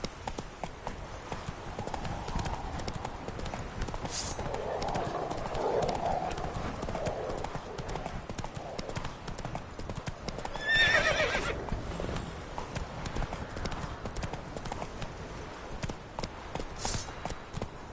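Horse galloping in The Witcher 3 video game, steady rapid hoofbeat clip-clop throughout with a whinny partway through, plus brief voices.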